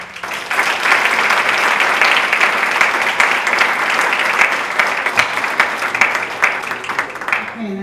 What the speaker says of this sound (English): all of her fellow students, I'm sure, will join me in applauding her